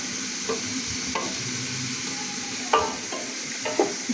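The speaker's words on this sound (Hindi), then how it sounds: "जस्ट हम लोग ने 30 सेकेंड का गैप देना है फ्राइड जो वेजिटेबल्स हैं उनको फ्राई करते हुए" Capsicum and softened carrots stir-frying for chicken fried rice, with a steady sizzle broken by a few sharp spatula scrapes and clacks against the pan, close and moderately loud with no talking.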